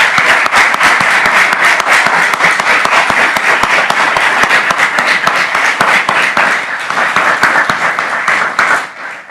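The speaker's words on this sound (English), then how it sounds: "one last round of applause, please." Sustained applause from a large audience at the Alpharetta Department of Public Safety firefighter promotional ceremony, steady and dense for most of the stretch before tapering off at the end.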